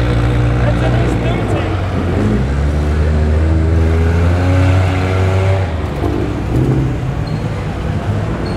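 Toyota 86 and Supra drive out of a car show in Homebush, Sydney, their engines droning and winding up with rising revs, close and loud, under voices of nearby people talking.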